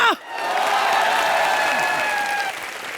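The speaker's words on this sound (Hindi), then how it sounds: "जूही चावला यहाँ जोरदार तालियां।" Studio audience clapping and cheering on a Hindi TV comedy show, a bright burst of applause with musical stings layered in after a brief opening sound, holding steady before easing off near the end.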